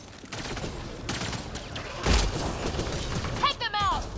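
Gunfire and combat sounds in the video game Mass Effect Andromeda, with a loud burst of shots and impacts under shouting voices, followed by a brief electronic warble.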